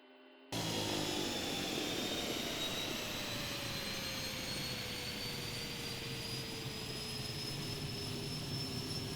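A Kodiak 100 turboprop engine in Microsoft Flight Simulator 2024 starts up abruptly after a brief quiet moment, then settles into a loud, continuous whine and roar with a tone that slowly falls.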